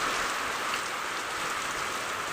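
Steady rain patters down, a dense, even hiss of drops with no voices.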